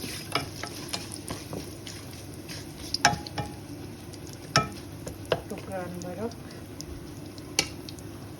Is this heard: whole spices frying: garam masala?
yes